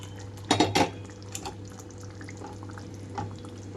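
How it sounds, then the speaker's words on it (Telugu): Fried eggs are dropped into a dhaba-style egg gravy curry in a pan, giving a quick cluster of metallic clinks and soft wet plops, then a few quieter scrapes over a steady low hum. "అలాగే వేయించి పెట్టుకున్న గుడ్లు మొత్తం కూడా ఇందులోకి డ్రాప్ చేసేస్తున్నాను."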